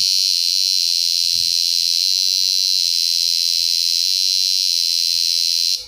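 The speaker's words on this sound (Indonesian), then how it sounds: "ketika di PDC itu suaranya itu nyaring atau bersih ketika kita sambungkan ke pulsatornya" A PDC sound module wired to a pulsator gives off a loud, steady high-pitched electronic tone that holds unbroken for several seconds and then cuts off, with no voices.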